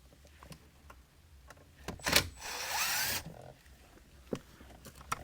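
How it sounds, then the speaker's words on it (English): A Phillips-head power drill driving screws whirs in a short burst of about a second, with a few clicks and clunks of handling before and after, fairly quiet overall. "I'm going to get my Phillips head drill"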